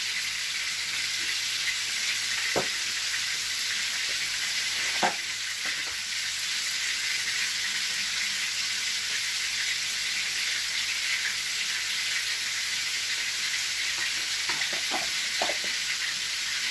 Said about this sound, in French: Ma tache noire est ficelée, ma poêle est chaude. Je lance la cuisson.